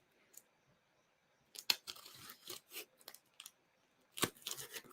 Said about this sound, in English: So the box, got my trusty blade.